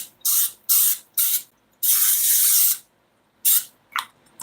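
Cooking spray hisses onto a pan in short bursts, about six sharp sprays of varying length, close and loud with silent gaps between, one longer blast in the middle.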